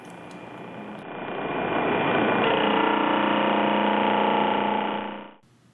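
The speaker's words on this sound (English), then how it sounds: "After the edges are trimmed, the ends can be squared up and corners rounded on a sander." A sander rounds the corners of bent plywood, a steady broadband whir that swells as the wood is pressed in, holds for several seconds and then drops away.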